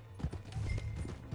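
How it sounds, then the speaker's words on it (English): A horse galloping in Red Dead Redemption 2, its hooves drumming in a quick, uneven clip-clop rhythm up close across a short burst, with no talk over it. "That's my horse!"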